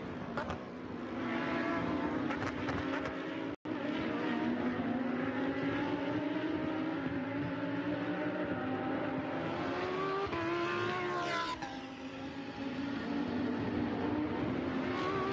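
Lamborghini Super Trofeo race cars at the Imola circuit swoop past in a sustained, loud engine roar that rises and falls as they pass, with a brief dropout near the start.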